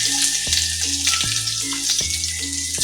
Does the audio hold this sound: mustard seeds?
yes